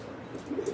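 Racing pigeons give a soft, brief coo in a single low murmur close by, over a faint background hiss.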